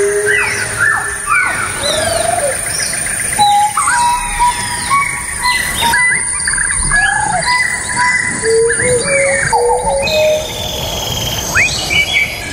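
Birds chirp and whistle in varied short calls over a constant insect buzz, lively and close, played on a Bogotá morning radio show as a recorded birdsong piece with no talking.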